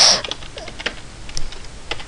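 Someone types a password on a computer keyboard, giving a brief scatter of soft, close key taps over a faint background hiss.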